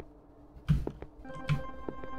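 Telephone ringing in a horror game, two short bright rings with tonal trills between, fairly close over a quiet background.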